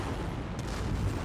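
Explosions in the video game Dying Light 2, a short burst of dull booming blasts with a sharp crack near the middle, loud and close.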